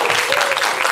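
Cinema audience applauding during a stage greeting by a film's cast, a brief dense burst of clapping heard close and full, with a faint voice underneath.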